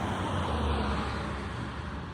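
Steady, distant road traffic hums and washes past as a continuous low roar, fairly faint with no distinct individual vehicles.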